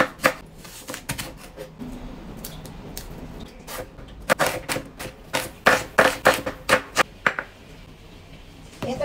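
A knife slicing vegetables thinly on a cutting board, apparently garlic and onion, for a Filipino dish: rapid sharp chopping taps, sparse at first and then quick and steady, close and fairly loud.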